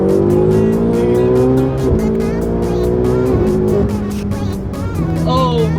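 Car accelerating hard in third gear on a highway, engine roaring loudly with rising pitch and a brief shift dip, close and intense, with a voice talking over it.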